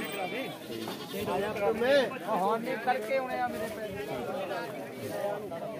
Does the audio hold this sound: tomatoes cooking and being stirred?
no